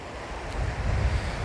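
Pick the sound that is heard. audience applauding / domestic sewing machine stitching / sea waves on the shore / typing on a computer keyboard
sea waves on the shore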